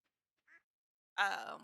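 Ducks quack in the Stardew Valley farm game: one short, faint call, then a louder, longer burst of quacking near the end, with quiet in between.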